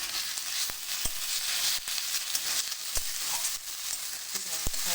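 Onion, garlic, ginger and chili paste frying in oil in a pan for a prawn curd curry, a soft continuous sizzle broken by sharp scrapes and taps of a spatula, quiet and close with no voices.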